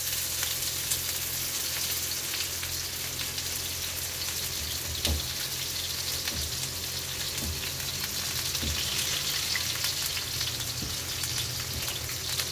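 Onions frying in hot oil with crackled cumin seeds, a dense, loud, continuous sizzle like rain with a few faint knocks of a spoon, no voices.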